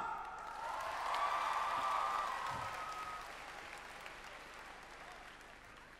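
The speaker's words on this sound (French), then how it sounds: "Je vais vous demander de faire un tonnerre d'applaudissements pour Jinx, participante A1." An audience at a cosplay show at Japan Expo applauds, the clapping swelling into a dense roar, then fading gradually at a moderate distance, with a faint voice over the crowd.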